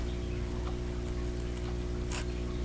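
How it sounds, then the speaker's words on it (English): A sharp seam ripper cuts a slit through quilt fabric for a vintage Single Lily quilt block, giving a short, close rasping tear near the end over a steady low hum. "I'm going to cut a slit through there."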